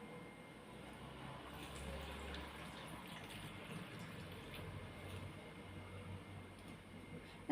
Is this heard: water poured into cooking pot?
yes